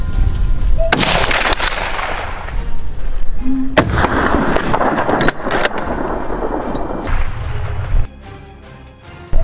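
Gunfire during a wild boar hunt, with loud sharp broadband blasts and a big report near the start, followed by sustained rumbling noise and further loud impacts, then a sudden drop to quieter ambience near the end.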